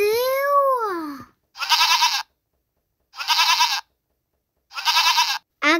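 Goat bleats, three loud, close, wavering cries with pauses between them. A child-like voice is heard just before them, and another bleat begins at the very end.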